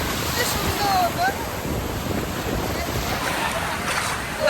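Surf washes steadily onto Puri beach on the Bay of Bengal, a broad, continuous hiss of breaking waves with wind, while people talk and call out nearby.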